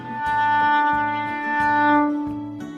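A bowed string instrument played with too little bow pressure repeats a note pattern with a thin, scratchy, unsteady tone, swelling and fading with each bow stroke.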